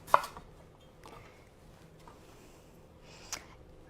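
A knife chops a carrot on a cutting board while beef stew is being prepared, giving two sharp, isolated strikes, one at the start and one near the end, with quiet pauses between.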